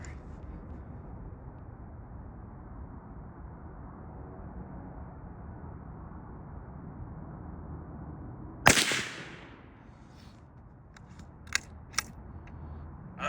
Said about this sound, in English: we just got done firing all 7 different rounds downrange